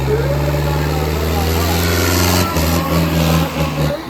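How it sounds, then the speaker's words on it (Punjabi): A tractor at a village trolley-pulling contest in Dhaulran runs loud and close, a deep, steady engine drone that rises slightly in revs, with people talking over it. "ਸਾਹਮਣੇ ਤੁਹਾਡੇ ਪਹਿਲਾ ਮੁਕਾਬਲਾ ਖੇਡਣ ਲਈ ਟਰੈਕਟਰ ਆ"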